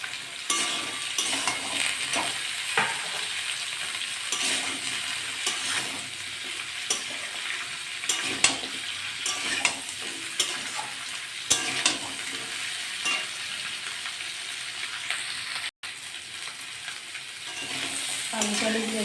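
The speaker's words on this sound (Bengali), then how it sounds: "আলু টালুগুলো একটু ভাজা ভাজা হয়ে গেছে," Potatoes, pumpkin and white greens stalks fry with shrimp in a pan, a steady loud sizzle with frequent scraping stir strokes throughout and a brief dropout near the end.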